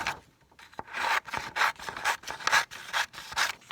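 Paper strip being trimmed for a notebook, heard as a series of soft, close rasping cuts and rubs in uneven bursts with no talk.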